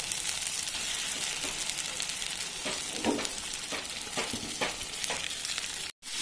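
Fried potatoes and meat tipped into masala sizzling in oil, a steady crackling fry with a few louder bursts and scrapes as the pieces go in, then a brief cut near the end.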